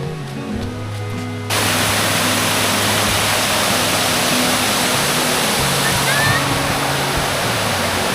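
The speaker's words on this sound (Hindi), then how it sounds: "एक मिनी फॉल आगे आ रहा है, उसकी आवाज़ भी अभी सुनाई दे रही है" A small waterfall beside a stepped path in Pachmarhi gives a loud, steady rush of falling water that starts abruptly and then continues evenly without a break.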